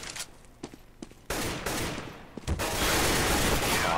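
Gunfire in a Counter-Strike match on de_mirage, a competitive round with a pistol exchange ending in a headshot, scattered sharp shots giving way to a dense, loud burst of rapid fire.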